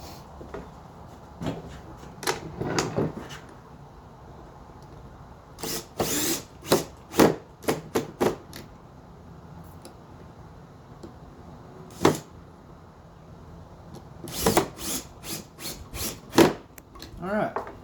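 Power tool driving nuts and washers onto a sign bracket, in repeated short bursts of whirring with pauses between, up close, plus some clinking and handling noise.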